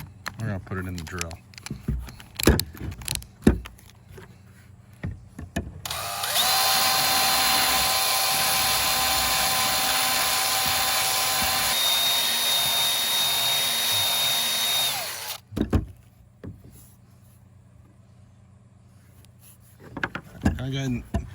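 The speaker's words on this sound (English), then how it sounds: "we're gonna put it in the drill." A power drill spins a 60-grit sanding disc with a steady, high-pitched whine lasting about ten seconds, with people talking before and after it.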